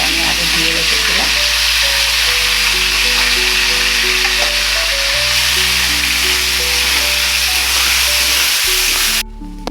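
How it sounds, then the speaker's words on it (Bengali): Rice fries in a pan for home-style fried rice, giving a loud, continuous hiss and sizzle with occasional stirring. A steady low hum runs underneath, and the sound cuts off abruptly at the end. "চালটা আমার একটু ভাজা ভাজা হয়ে গেছে"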